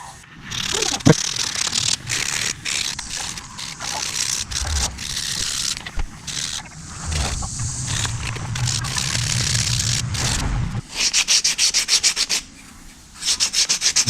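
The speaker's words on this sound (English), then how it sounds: "Now it's time to sand." Hand sanding of a carved wooden musky fishing lure with a sanding block, a rough scratchy rubbing in repeated strokes, sometimes quick back-and-forth, up close and fairly loud.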